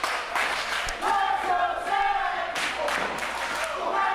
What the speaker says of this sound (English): This crowd at the Chop Shop coming alive